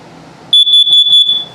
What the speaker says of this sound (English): So if it detects carbon monoxide or LP gas, it'll go off.